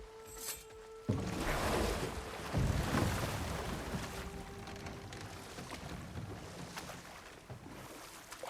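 A broad, steady roar of rushing water from a waterfall in God of War Ragnarok, swelling strongly after a brief quiet opening and holding as a continuous wash, with no talking.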